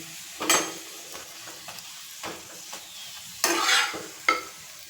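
A jackfruit paratha fries in oil in a kadai, a soft steady sizzle punctuated by several sharp scraping bursts of a spatula against the pan.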